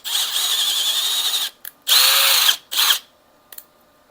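A power drill cleans out a screw thread on a Honda CG125 café racer mirror mount, whining loudly in one long burst then two shorter ones, each stopping abruptly, followed by brief clicks.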